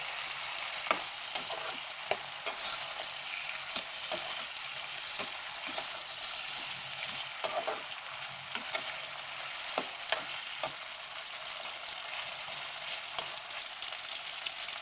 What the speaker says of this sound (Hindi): इसको हम अच्छे से फ्राई करेंगे, गैस सिम पे रखेंगे।